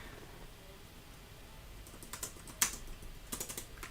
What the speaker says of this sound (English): I'm just typing the next poll.